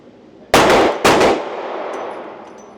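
Two loud, sharp gunshots from a Smith & Wesson 1854 lever action rifle, fired about half a second apart, each with a long echoing tail that fades out in the open air.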